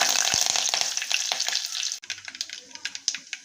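Curry leaves crackle and sizzle loudly in hot oil for a kadhi vada, a dense frying hiss for two seconds that cuts off to quieter scattered pops and spits.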